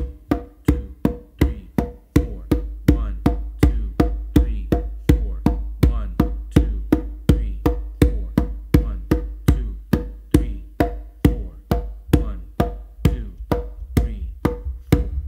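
Conga drummed in a steady, even bass-and-finger clave pattern, a long run of crisp, evenly spaced strokes with full low thump, close and loud, no voice.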